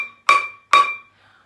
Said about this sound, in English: I've got a big metal saucepan that sounds like this.